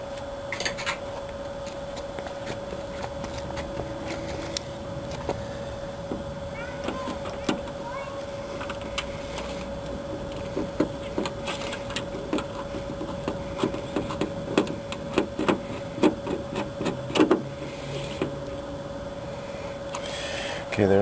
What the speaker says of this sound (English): Let's see if it screws in.